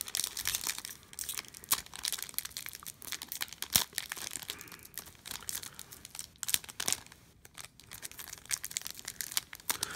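Crinkly foil wrappers of old Yu-Gi-Oh! card packs from a 2003 Blue-Eyes White Dragon tin being torn open and crumpled up close, a dense, continuous run of crackling rustles and sharp tearing bursts with no talking.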